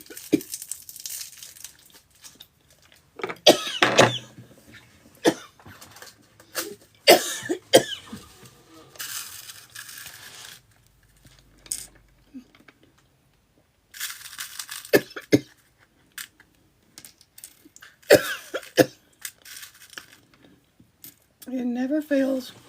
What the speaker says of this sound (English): I get to doing something, seems to be turning out okay, and then I get a coughing spell.